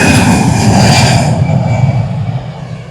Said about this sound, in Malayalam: ഫ്ലൈറ്റ് ഇതാ പൊന്താൻ പോകുന്നു. സൗദി അറേബ്യയുടെ.